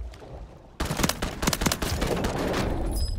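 Gunfire in the Call of Duty video game: after a quiet start a sudden burst of rapid shots breaks out, dense and loud, then settles into a sustained roar of continuing fire.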